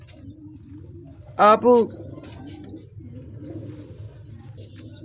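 Sialkoti big breeder pigeons give a short, close coo in two quick pulses over a low hum of ambient noise, with someone speaking briefly nearby.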